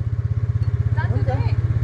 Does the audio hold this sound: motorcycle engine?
yes